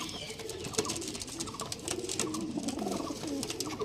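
Several Andhra Kalka pigeons coo close by in repeated low, throaty rolls, overlapping one another against a busy background of clicks and rustling.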